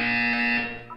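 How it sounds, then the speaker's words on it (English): Test chamber buzzer in the video game Portal 2: a single loud, harsh electronic buzz that holds steady for about half a second, then fades, followed by a brief electronic blip. "You will hear a buzzer."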